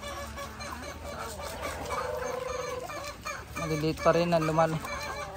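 Backyard chickens cluck and squawk at feeding time, the fowl calls coming through clearly with a louder burst near the end while someone talks over them.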